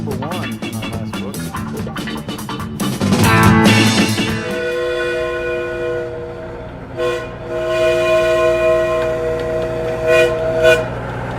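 A train horn sounds in a steady sustained blast, preceded by rumbling and clattering, loud and close, with no talking.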